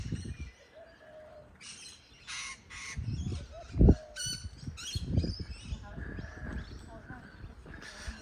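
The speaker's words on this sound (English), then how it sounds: "It's a parrot." A parrot calls several times with harsh squawks and chirps near the central market in Adelaide, Australia, heard amid people talking and street bustle.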